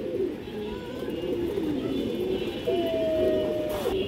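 A pair of ring-eyed pigeons in a loft coos steadily and close by, low throaty rolling calls running continuously with a brief higher note near the end.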